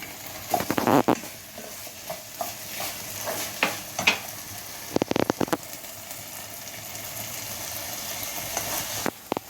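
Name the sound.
tomato sauce poured into pan with pasta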